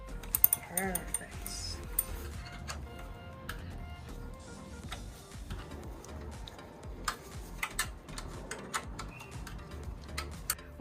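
A ratchet clicks in bursts while a carbon fiber heat shield is screwed onto an SC Project exhaust for a 2020+ BMW S1000RR, close and fairly quiet, with occasional metallic taps and pauses.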